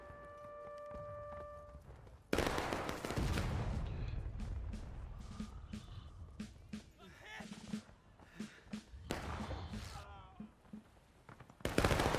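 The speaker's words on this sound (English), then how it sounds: "Those were pretty close shots." Musket volleys ring out in a video game battle, with a loud crackling burst followed by scattered, fairly close shots and rumbling over a busy battlefield din.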